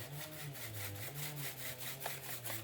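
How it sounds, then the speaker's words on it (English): A chainsaw drones steadily at a distance, its engine hum wavering slightly, with rhythmic rasping bursts as it bites through pecan wood. "Hear that chainsaw? Getting that pecan wood ready."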